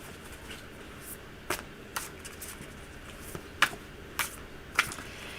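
Playing cards being shuffled close up, a series of sharp riffling bursts at irregular intervals, each a short crisp flutter, over a quiet background.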